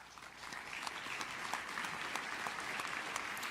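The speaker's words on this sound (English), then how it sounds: "Oh, the people are clapping." Audience applause at the AMD CES opening keynote, a steady wash of many hands clapping at moderate distance, holding even throughout.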